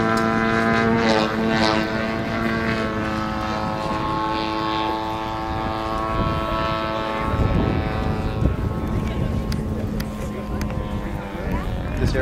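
A large RC aerobatic model airplane of about 27 pounds drones steadily overhead through a rolling circle and knife edge pass, its engine a sustained harmonic buzz that shifts pitch, while a commentator talks over it.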